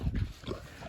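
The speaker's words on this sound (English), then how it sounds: "have to explain that while you're listening to pigs screaming" Breeding pigs shriek and squeal outdoors in a short, loud, close burst of harsh animal cries with low grunting underneath.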